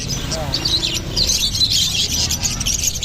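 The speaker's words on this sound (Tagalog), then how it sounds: "Kagandang ibon." Small caged birds at a bird market chirp and tweet in a busy, continuous high chatter, close and fairly loud, while people talk nearby.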